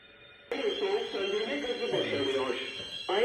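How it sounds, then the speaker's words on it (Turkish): A harsh electronic fire alarm triggered by a heat detector blares continuously and loudly during an aerosol fire extinguishing system test, with a person talking over it partway through. "ısı dedektöründen alarm verdi"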